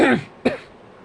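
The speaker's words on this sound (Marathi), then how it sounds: "खूप खोकला येतो जबरदस्त खोकला येतो" Two quick, close throat-clearing coughs, one right after the other, loud and raspy with no talking.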